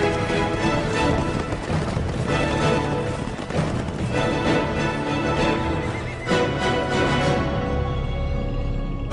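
Horse hooves clip-clop in a continuous trotting rhythm, mixed with a dense, loud outdoor bed of sound and no speech.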